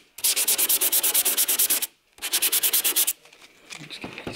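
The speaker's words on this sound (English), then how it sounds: "I'm just going to finish off the inside, the worst parts of the dent." Sandpaper rubbing over body filler in a large shallow car dent on a Talbot Sunbeam Lotus, two bursts of fast rhythmic back-and-forth strokes, close and loud, followed by quieter scraping.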